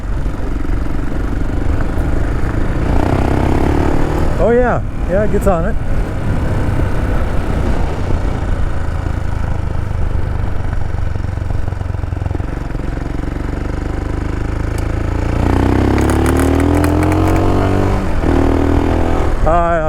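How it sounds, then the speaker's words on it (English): A Royal Enfield Himalayan motorcycle with a 462 big bore kit and aftermarket exhaust pipe runs loudly throughout, rumbling and revving up and down, with a person talking briefly over it. "Can you all hear the engine?"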